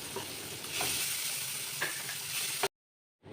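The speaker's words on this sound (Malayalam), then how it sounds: "ചെറിയ ഉള്ളി ചതച്ചത് ഇട്ട് കൊടുത്ത് നല്ലോണം ഒന്ന് വഴറ്റിയെടുക്കുക" Crushed shallots with curry leaves sizzling and sautéing in a pan for a chicken dish, a steady close frying hiss with a few clicks of stirring, then abrupt silence near the end.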